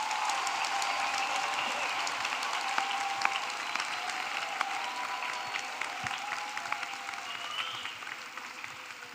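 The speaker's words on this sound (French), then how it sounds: "Acclam. Clap." A church congregation applauding during a service, a steady wash of many hands clapping that carries on throughout, fairly faint and heard from a distance.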